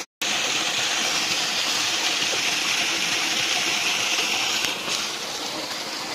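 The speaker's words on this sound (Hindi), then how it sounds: "आप देख सकते हैं यहाँ पर पानी कितनी स्पीड से आ रहा है, यही आगे जाके बिंदाल नदी बनती है" Fast-flowing water from a mountain spring stream near Dehradun, the source of the Bindal river, makes a loud, steady broadband rush after a brief silent start, nearby and continuous.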